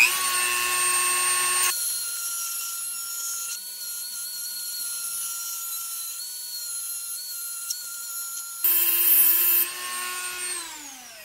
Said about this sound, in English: I'm going to use this diamond burr. Like I said, it's for cutting glass, but it'll work for this.